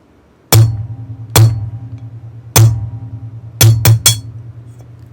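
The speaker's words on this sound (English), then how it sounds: "Trying to do this trick and choke up on the punch a bit." A hammer strikes a punch while an R51 pistol is taken apart, about six sharp metallic clinks that ring briefly. The first strikes are spaced apart and the last three come in quick succession, close and loud with no talking.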